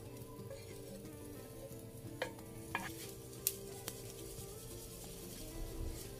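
Minced meat and onion stirred in a hot pan for Arabic-style tacos, a constant close sizzle and frying crackle with a few sharp utensil taps against the pan, no voices.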